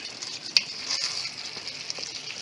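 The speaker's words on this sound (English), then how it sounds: "So now we're going to add our baby corn. Mix that in." Baby corn sizzles in a hot stir-fry pan, a steady bright hiss with a single sharp clack as it is tossed and mixed.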